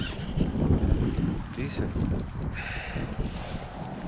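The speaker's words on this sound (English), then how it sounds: "Every time we come to shoot a video, it just get windy and nasty." Gusty wind buffets the microphone on a river while fishing from a boat for walleyes, a loud low rumble with water noise underneath and someone speaking briefly.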